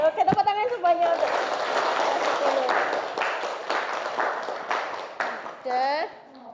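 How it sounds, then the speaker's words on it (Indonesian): Classroom of students clapping in a teacher's lesson, a burst of group applause under cheerful voices and chatter, with shouts at the start and end. "Oke, tepuk tangan semuanya untuk"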